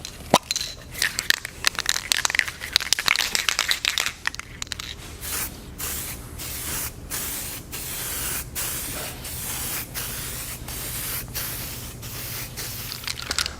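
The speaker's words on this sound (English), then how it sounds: "we're going to spray this one on after shaking this up pretty good" An aerosol can of adhesion promoter sprays in a long, loud continuous hiss at close range, followed by a series of short, sharp bursts in a steady rhythm.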